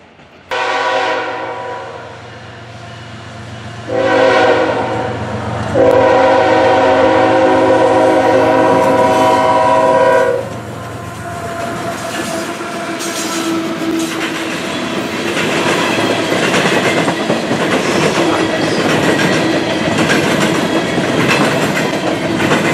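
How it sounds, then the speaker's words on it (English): A train horn blasts loud and close in long, repeated tones, followed by the steady rumble and clatter of a heavy coal train rolling past. "Reading 1076 was on this coal train today."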